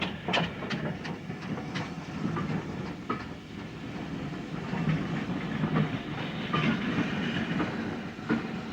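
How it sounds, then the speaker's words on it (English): A steam train arrives on a UK heritage railway, rolling in with rhythmic clickety-clack of wheels over rail joints, hissing steam and a rumbling low body, fairly close and steady. "The last train of the day has just arrived"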